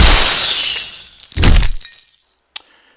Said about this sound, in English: was the sound of glass breaking